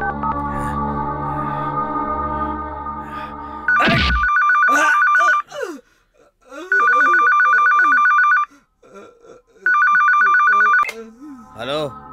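A telephone rings in repeated electronic bursts, loud and close, with voices and rustling between the rings.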